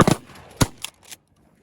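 Shotguns fire at geese over water during a goose hunt: a fast cluster of sharp blasts, then two or three more spaced shots, close and loud, before quiet.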